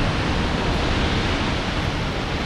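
Waterfall at Fall Creek Falls, Tennessee: a dense, steady roar of falling water, close and loud, filling the whole moment without voices.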